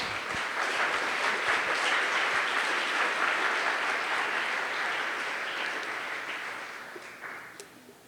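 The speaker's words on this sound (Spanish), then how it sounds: "Denle un aplauso a nuestro rey, por favor" A church congregation applauds together during a Sunday service. The clapping is dense and sustained, then tapers off gradually toward the end.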